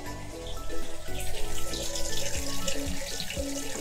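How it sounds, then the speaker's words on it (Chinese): Water refilling a toilet tank through a newly replaced fill valve with new rubber seal, a steady close rushing and splashing flow sustained throughout. "有没有看到它是从底下喷水的？"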